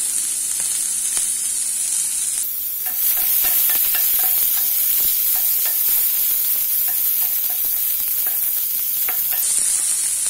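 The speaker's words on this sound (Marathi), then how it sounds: "त्याच्यामध्ये हे बीन्स घालायचे, चिरून घेतलेले" Chopped beans stir-fried in a lentil and spice tempering give a constant hissing sizzle, with repeated light spatula scrapes against the pan near at hand and no voices.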